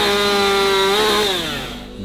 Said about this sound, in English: We gear up with chainsaws